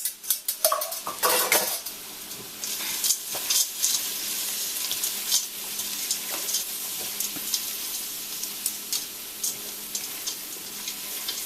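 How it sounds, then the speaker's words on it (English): Store-bought stuffing is stirred in a pan with spices and vegetables, with a utensil scraping and clinking against the pan over a soft sizzle, the early strokes louder and then settling into steady stirring. "just coat the stuffing with all the spices and all the vegetables that we added."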